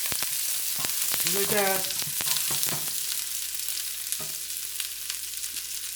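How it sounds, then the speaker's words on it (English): Red onions frying and browning in a pan for a tofu and egg tomato sauce, a steady close sizzle throughout with stirring clatter, while a person speaks briefly near the start. "see you can brown the onion up a little bit."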